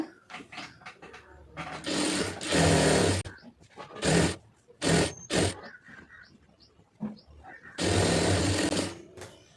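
A sewing machine runs in several loud bursts while stitching a seam on a cigarette pant, with someone talking between the runs.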